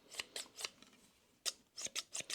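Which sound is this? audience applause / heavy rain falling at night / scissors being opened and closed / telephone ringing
scissors being opened and closed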